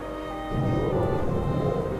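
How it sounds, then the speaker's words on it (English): A deep rolling rumble of thunder in the Wallace & Gromit video game, swelling after half a second into a sustained low roar over a faint rain-like wash. "That's thunder, all right."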